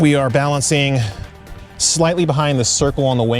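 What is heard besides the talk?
No everyday noise stands out behind the speech.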